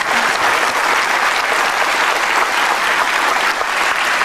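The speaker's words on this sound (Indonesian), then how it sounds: "Luar biasa, perlu tepuk tangan." Loud, dense applause from a large crowd, sustained and even throughout.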